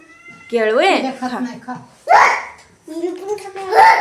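A playful kitten meows in a string of rising and falling cries, close and fairly loud, with short pauses between calls.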